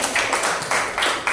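A classroom of students clapping together, a short burst of a few loud, close rhythmic claps.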